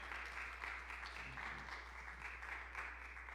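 Congregation applauding during a church service, a steady wash of clapping that sounds somewhat distant and muffled beneath a low constant hum, lasting the whole stretch without breaks.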